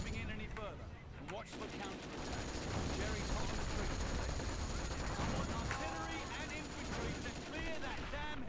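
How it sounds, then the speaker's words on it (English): Rifle grenade striking a building in Company of Heroes, a WWII strategy game set in the Caen campaign, amid dense continuous gunfire and explosions, with excited players talking over the battle noise. "Rifle grenade! It just hit the building"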